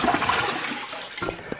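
A toilet flushes thirty giant Orbeez water balls, a rushing close-up gush of water that drains and gurgles briefly near the end.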